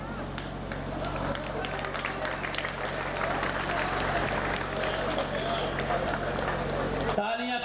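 Audience applause at a Hindi hasya kavi sammelan comedy poetry gathering, a steady dense clatter of many hands held at even loudness for several seconds before cutting off abruptly near the end.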